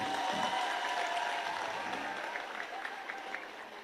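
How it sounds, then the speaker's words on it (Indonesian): Audience applause at an Islamic boarding school anniversary celebration in Sleman, Indonesia, greeting the Vice President: steady, dense clapping from a large crowd that holds evenly and eases off slightly toward the end, with no voices over it. "tepuk tangan untuk Mas Gibran."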